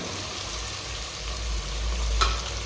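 Sweet corn is stirred into fried tomatoes in a hot pan for pulao, a close, continuous sizzle with a low rumble and one brief scrape near the end.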